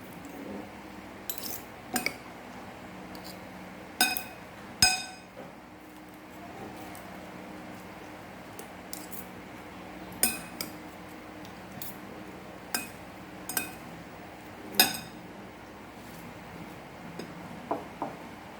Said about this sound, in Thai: มะเขือเทศ ไปค่ะ คลุกเคล้าให้เข้ากันค่ะ